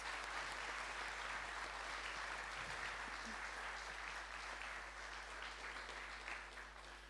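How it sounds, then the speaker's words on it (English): A school prizegiving audience gives a steady, distant round of applause at low level, with a constant low hum underneath as the clapping slowly tapers toward the end. "So I think one more round of applause for them,"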